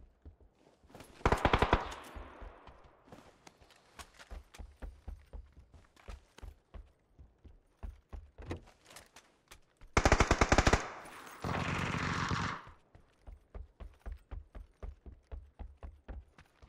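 Automatic rifle fire in PUBG on the Deston map: rapid sustained bursts of gunshots with sharp repeated cracks, mixed with quieter footstep-like taps between volleys, loud and close with no talking.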